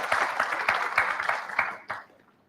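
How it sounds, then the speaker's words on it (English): Audience applause at a malaria research conference session, a burst of many hands clapping close and loud for about two seconds, then quickly fading out to quiet. "can we give a round of clap to all of us?"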